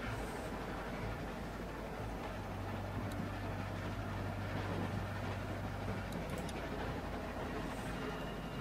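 A train rolls along steadily in The Walking Dead game, a continuous rumbling drone with a low hum and faint metallic squeaks, unbroken throughout, with no talking over it.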